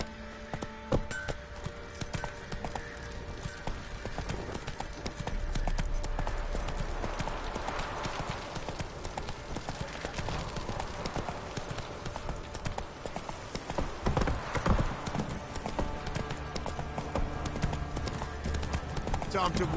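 In the video game Witcher 3, a horse gallops with a steady stream of clip-clopping hooves under dense ambient game sound and a voice, lasting throughout at a constant level.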